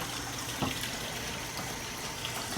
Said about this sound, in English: I'll use some of this tank water to clean it off a bit more.